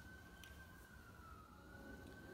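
A faint emergency siren wails from outside, a thin steady tone drifting slightly in pitch beneath low background noise, heard indoors at a distance.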